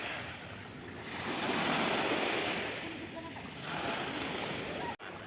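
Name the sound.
sea waves washing ashore at Mumbai beach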